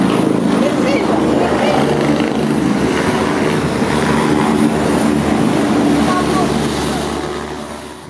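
A helicopter during a rescue exercise near high voltage power lines, a loud, steady rotor and engine roar filling the whole stretch close up, fading slightly at the end.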